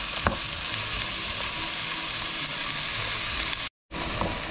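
Shrimp fry in a hot pan with a constant crackling sizzle, loud and close, broken once by a short silent gap near the end, with no one speaking.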